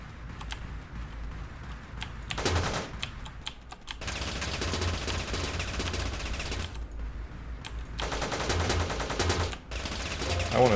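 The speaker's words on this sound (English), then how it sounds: "High velocity machine gun." Rapid high-velocity machine gun bursts in the top-down shooter Teleglitch, loud and close, firing in several sustained stretches separated by short gaps.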